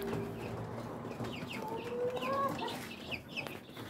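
Rhode Island chicks and Muscovy ducklings on a hobby farm give soft, scattered peeps and clucks over a steady farmyard background, with a few clearer high calls near the middle.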